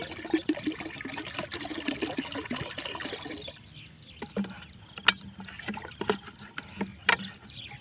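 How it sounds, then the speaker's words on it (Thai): Microbial solution is poured into a water tank, giving a close splashing, trickling rush for a few seconds, then quieter drips and scattered sloshing knocks. "เทลงไปเลยครับ"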